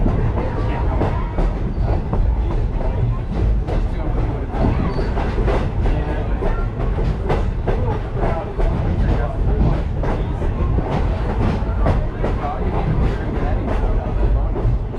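A Strasburg Railroad passenger rail car rolls along steadily, with a constant low rumble and rhythmic clickety-clack of wheels over rail joints heard from inside the carriage, loud and continuous throughout.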